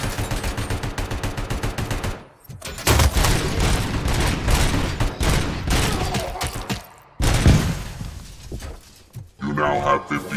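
Rapid, loud gunfire in RoboCop: Rogue City, dense bursts of automatic shots broken by brief gaps, with booming impacts and shattering debris throughout.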